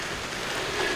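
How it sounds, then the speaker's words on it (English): Heavy rain pours down steadily outdoors during a deer hunt in Illinois, a dense continuous hiss with no pauses. "it is pouring down rain. I don't mean sprinkling."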